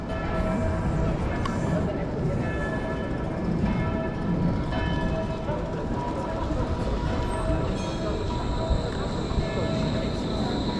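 Train rolling past during a walk outdoors in Switzerland, a steady, loud rumble of rail cars and wheels that carries through the whole stretch, with people's voices mixed in underneath.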